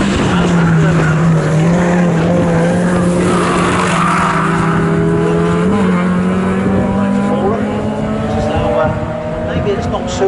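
VW and Honda VTEC race cars lap Snetterton circuit, engines droning loud and steady with a passing pitch swell midway, while a commentator talks throughout.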